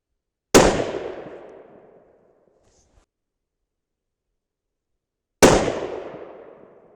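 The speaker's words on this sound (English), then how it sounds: "So here's 2 more shots in the magazine. Let's go ahead and make this a 5-shot group." Two rifle shots from a Thompson Center Compass chambered in 6.5 Creedmoor, each a sharp, loud crack with a decaying echo, spaced about five seconds apart with silence between.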